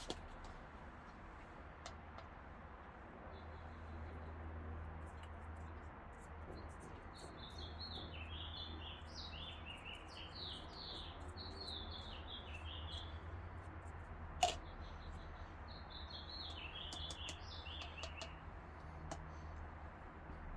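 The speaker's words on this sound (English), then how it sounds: "Just love hearing those birds." Birds sing outdoors, faint and distant, with repeated chirping phrases over a quiet background hum and a single sharp click.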